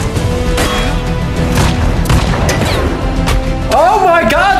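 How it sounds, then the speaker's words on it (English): Gunfire rattles in a Black Widow movie scene, dense booms and bursts mixed with score and shouting voices, loud and continuous, while a viewer reacts aloud. "Oh my God, they're shooting at the girls!"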